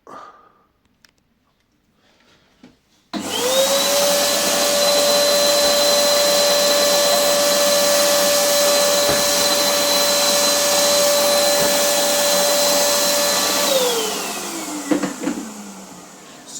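An Erbauer EPS800 electric paint sprayer starts up abruptly and runs with a loud, steady motorized whine and buzz for about ten seconds, then winds down as it switches off, with no talking.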